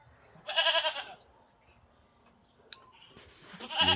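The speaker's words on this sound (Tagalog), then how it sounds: "Ingay yung kambing, oh." Two loud goat bleats, one early and one at the end, with a quiet pause and a faint click between them.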